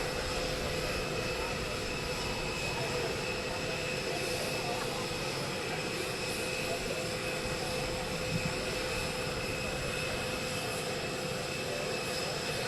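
Air Force One, the presidential jet, arriving at an airport in Florida, its engines a steady, loud broadband roar with a constant whine that holds for the whole stretch.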